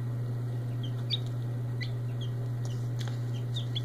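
Cream Legbar chickens in a hatchery give scattered short clucks and chirps against a steady low mechanical hum, the calls fairly close and moderately loud.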